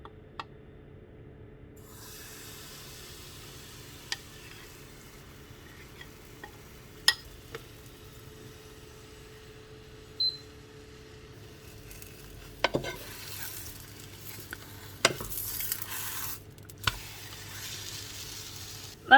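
Wholemeal crepe batter fries in an oiled pan with a steady low sizzle throughout, punctuated by occasional utensil clicks and scrapes, with stronger scraping and clattering bursts toward the end.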